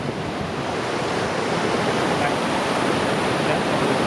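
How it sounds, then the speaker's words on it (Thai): Rushing water roars in a dense, unbroken wash of noise, steady and loud throughout, like a waterfall in southern Laos heard close by. "ตัวนี้เป็นน้ำตกที่ สวยดี"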